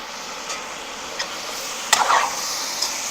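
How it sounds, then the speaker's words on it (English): Curry duck fries with a steady sizzle in a pot, while a few scraping stir strokes sound close by over the crackle. "Stir this up and let this fry down."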